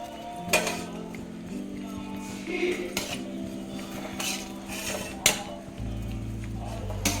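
Chopped pieces of bitter gourd (chedu potlakaya) tipped into a metal cooking pot, a few scattered clanks and knocks of utensils against the pot, near and moderately loud, with a low steady hum toward the end.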